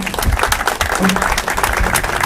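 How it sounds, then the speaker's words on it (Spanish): Audience applause at an expo event in Villa Ángela, dense and loud clapping that carries straight through while a presenter keeps talking over it. "Gracias Luis, gracias Claudio, gracias a la Cámara de Comercio, un aplauso enorme."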